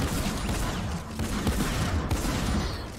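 Gunshots in a Fortnite Battle Royale match crackle densely and loudly, a continuous barrage of overlapping shots with no voices on top.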